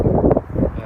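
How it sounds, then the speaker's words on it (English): Wind gusts across an allotment and buffets the microphone, making a loud, low blustery rumble that surges and dips over about a second. "You'll have to excuse the wind because it is a little windy."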